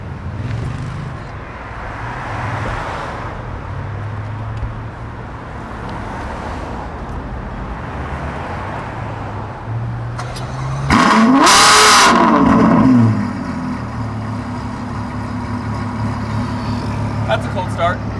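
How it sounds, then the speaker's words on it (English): Car engine cold-starting with a sharp loud burst, then settling into a steady idle, with people talking before and around it. "Let's get a nice cold start."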